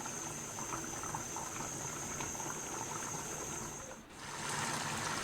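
A steady, faint bubbling and hissing of water boiling in a pot continues throughout, with a brief dip near the end before it resumes.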